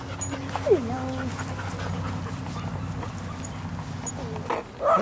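A dog panting at an outdoor dog park, quick rhythmic breaths with a brief whimper, heard close under intermittent human voices.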